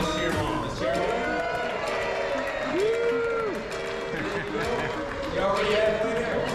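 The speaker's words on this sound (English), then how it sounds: "Come on, let's cheer them on. Let's cheer them on." A crowd at a fitness challenge event in Memphis, Tennessee shouts and cheers contestants on, with whoops and applause rising over a steady, loud din and a voice calling out encouragement.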